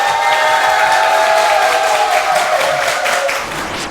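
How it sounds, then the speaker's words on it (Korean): A church congregation breaks into sustained, dense applause that fills the room loudly for several seconds, then eases slightly toward the end. "하나님께 영광의 박수!"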